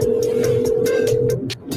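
A phone rings through a call in a steady repeating tone, loud and close, with brief pulsed bursts layered over it before it cuts off near the end.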